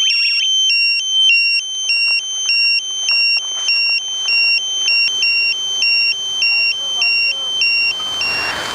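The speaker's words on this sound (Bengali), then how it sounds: "আমার রিমোটে কিন্তু কন্টিনিউ ভাইব্রেশন এবং অ্যালার্ম হচ্ছে" A Tasslock motorbike security lock remote sounds its alarm, a shrill two-tone electronic beep repeating in a steady pulsing rhythm, loud and close, with some handling noise near the end.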